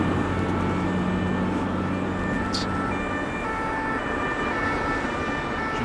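SAMU ambulance heading to the hospital, heard as a steady wailing siren under the continuous road rumble of a police car following behind, with its rotating light switched on, constant and moderately loud.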